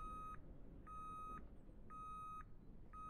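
A vehicle's reversing alarm in a Roblox video game sounds a steady series of four clear electronic beeps, evenly spaced about half a second apart over a faint background.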